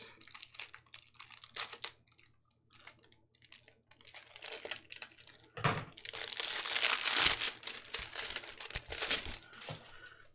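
Plastic packaging being cut and torn open while unboxing a WWE SlamCrate loot crate, close crinkling and tearing with scattered clicks, growing into a louder ripping stretch midway.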